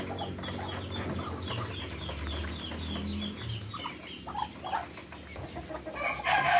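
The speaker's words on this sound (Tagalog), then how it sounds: "ito yung mga alaga natin, na mga breeder natin, mga Muscovy ducks" Muscovy duck breeders on a farm at feeding time, a busy flock giving continuous overlapping clucks and calls over low farmyard rumble, with louder bursts near the end.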